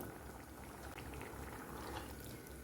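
Fenugreek and peas rice water coming to a boil in a pot, a faint steady bubbling burble that carries on evenly throughout.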